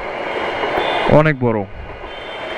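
A long Bangladeshi intercity passenger train of around twenty-one cars rumbles past nearby, with a person speaking briefly over the steady rail noise.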